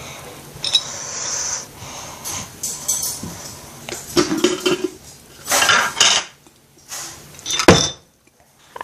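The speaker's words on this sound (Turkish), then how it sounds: "Bu farklı bir sürpriz yumurta. Şimdi açmaya başlıyorum." A surprise egg toy being unwrapped and opened up close: bursts of crinkling, rattling and clattering plastic come in irregular clusters, with short quiet gaps and a sharp snap near the end.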